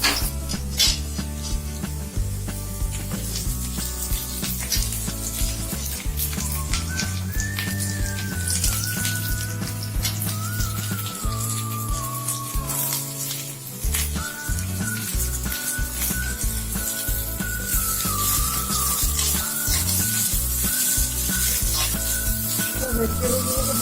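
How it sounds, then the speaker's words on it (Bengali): Vegetables for chicken thukpa sautéed and stirred in a pan, a steady sizzle with scraping stir strokes running throughout under a layer of background music. "একটু সতে করে জাস্ট নেড়ে নেবো, বেশি ভাজবো না"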